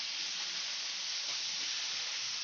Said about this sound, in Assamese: মাছ ফ্ৰাই কৰি আছে